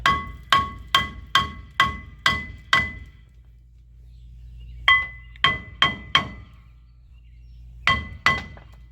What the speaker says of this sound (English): We're going to get our hammer and hit this and try to break it loose